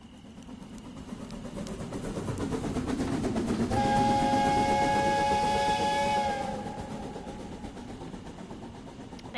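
A train in the video game Last Stop sounds a steam whistle for a few seconds over a hissing, rumbling background, loud and steady before fading back to the rumble.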